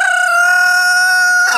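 A pet rooster crows once in a Spanish mountain forest, a loud, close, sustained cock-a-doodle-doo held steady before cutting off abruptly.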